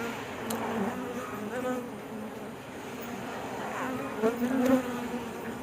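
Steady buzzing from a swarm of farmed bees hums throughout, with faint voices and a brief louder swell near the end.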